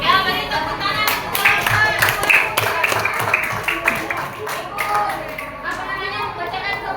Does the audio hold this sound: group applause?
yes